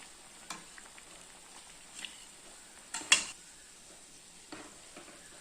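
Potato vadai fry in hot oil with a steady, soft crackling sizzle, broken by a few light clinks of a utensil against the pan.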